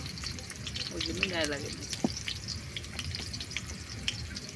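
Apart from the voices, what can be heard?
potatoes frying in a pan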